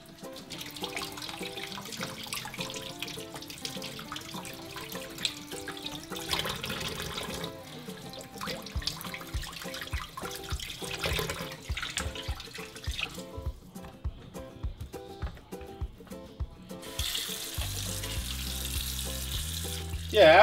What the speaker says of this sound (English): we're just going to wash it in running cold water